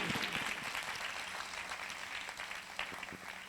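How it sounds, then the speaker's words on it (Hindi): A congregation claps during a Hindi sermon by Pastor Javed Tara, a dense, steady wash of applause that holds for a few seconds, with no voices on top. "उसके लिए जोरदार तालियां बजाएं।"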